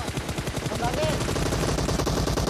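Rapid gunfire in a shooter video game, dense bursts of shots under constant game noise while players talk excitedly over the action.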